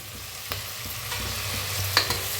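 Sprouted moth beans (matki) dry-roasting in a pan, with a few scraping stir strokes and a faint dry rustle close by, no talking.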